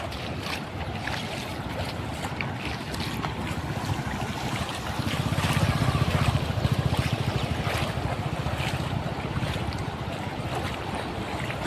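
Water of the Shetrunji river rushing steadily as a continuous broadband roar, swelling slightly midway, mixed with gusting wind buffeting the microphone; no voices.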